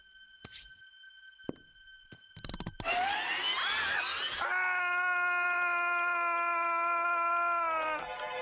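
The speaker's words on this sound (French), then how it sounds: "Tu veux que je te fasse écouter ma dernière invention, la première machine à crier?" A cartoon uncle's invented screaming machine lets out a loud, sustained, wavering shriek lasting about five seconds, preceded by a few clicks and mechanical knocks.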